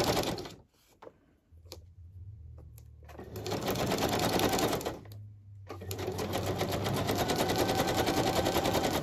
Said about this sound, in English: I'm going to zigzag down there, but I'll straight stitch up that side.